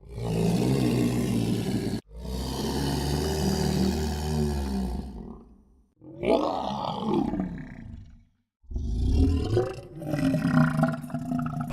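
Designed monster roar sound effects, pitched down low for a creature sound library, three long growling, rumbling roars separated by short silences, loud and close, with a raspy, guttural texture and no talking.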